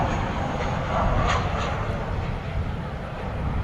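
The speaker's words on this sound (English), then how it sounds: "737-800. It's American Airlines. And this is the TWA livery." An American Airlines Boeing 737-800 in TWA heritage livery at DFW Airport at night, giving a loud continuous jet rumble with faint voices beneath it.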